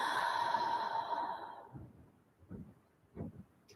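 A long, audible mouth exhale during yoga breathing, a breathy rush that fades out, followed by a few softer breath sounds.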